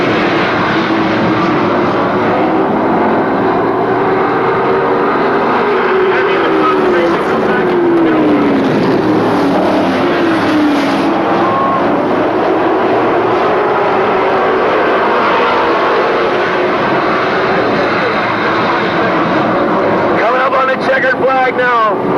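Pickup trucks racing on a track in a Sara Pro Trucks 50-lap feature race make a steady, loud engine roar with rising and falling passes, under continuous commentary.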